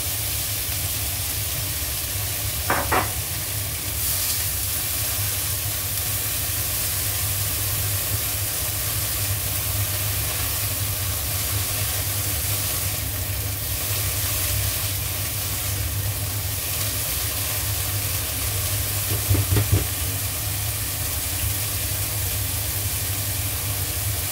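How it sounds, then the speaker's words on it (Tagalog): Mixed vegetables frying and being stirred in a pan for fried rice with luncheon meat, giving a continuous loud sizzling hiss with a couple of brief scraping clatters from stirring. "At, iluto natin yung ating mixed veggie."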